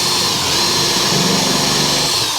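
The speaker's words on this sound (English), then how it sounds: "we'll go ahead and finish putting these screws in" A power drill driving screws into a custom bar whirs loudly and continuously up close, a dense buzzing drone with no pauses for the whole short stretch.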